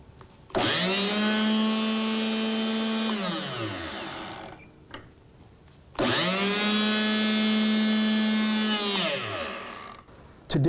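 An Enerpac E32 double-acting hydraulic chain cutter, set to cut 3/8 chain, runs in two separate bursts of about three seconds each. Its motor whine rises, holds steady, then winds down each time, with brief quiet between the bursts.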